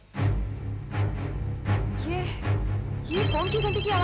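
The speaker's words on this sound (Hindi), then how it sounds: "ये फोन की घंटी की आवाज कहां से आ रही है?" A telephone bell rings in rapid, continuous trills in a hospital setting, mixed with tense, warbling music and eerie sound effects.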